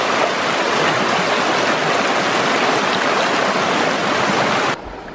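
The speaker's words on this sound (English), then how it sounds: "we're going towards the waterfall" Loud, continuous rushing water roars close by, broadband and steady, before dropping off abruptly near the end.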